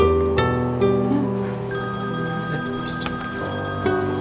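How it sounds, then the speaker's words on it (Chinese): A telephone rings indoors during a restaurant meal, an electronic ringtone sounding clearly and steadily over a low music bed, with no voices. "不好意思啊，我去接个电话"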